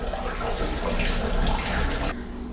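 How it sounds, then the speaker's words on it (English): Apple juice pours into a glass carboy as a steady loud rushing splash that cuts off abruptly near the end, leaving a faint hum. "And then all the rest of the juice, except for the last quart, goes into the carboy."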